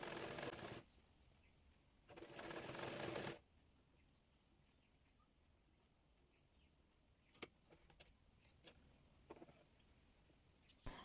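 A sewing machine stitches a gathered frill onto the yoke of a baby frock made from fabric scraps, in two short, faint whirring runs followed by scattered light ticks.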